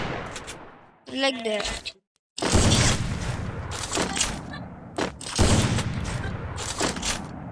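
Bursts of gunfire from a gun in a video game, loud rapid cracking volleys separated by short gaps, with a voice talking briefly over one pause.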